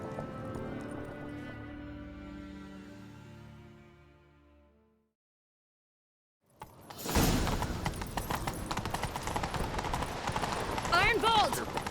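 Hooves pound rapidly in a galloping rhythm, loud and close, after a fading musical passage and a brief silence, from The Witcher 3: Wild Hunt.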